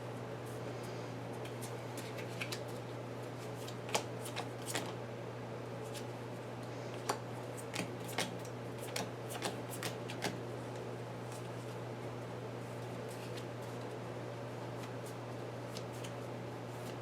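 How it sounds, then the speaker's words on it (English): Pathfinder Adventure card game cards being shuffled at a table, a series of soft, scattered riffling snaps and flicks over a quiet steady hum, irregular and fairly faint. "and this will get shuffled into here."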